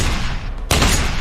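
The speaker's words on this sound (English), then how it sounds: "Gunshots!" Gunfire in the war video game Company of Heroes, a loud, dense burst of rapid shots that briefly drops out and then resumes.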